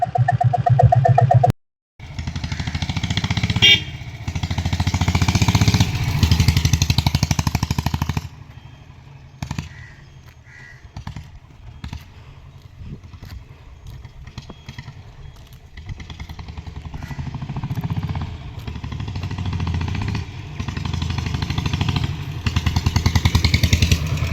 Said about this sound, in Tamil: வண்டி ப்ளூட் சவுண்ட் அருமையா இருக்குங்க